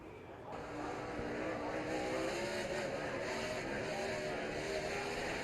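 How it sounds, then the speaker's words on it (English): Onboard NASCAR Cup race car engine at Phoenix in 2006, the driver feathering the throttle on a restart: a loud, steady engine drone holding throughout, with faint radio-style talk underneath. "I was listening to him feather the throttle"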